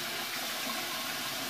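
Hot water runs from a tap in a short, steady splashing rush, close by and alone with no talking.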